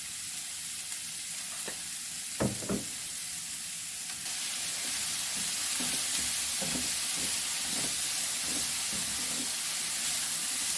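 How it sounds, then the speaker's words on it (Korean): Carrots for japchae are stir-fried in a pan with salt, giving a steady close sizzle and hiss with occasional scraping and stirring knocks from a utensil throughout. "당근도 볶은 지가 한 2분 되었습니다."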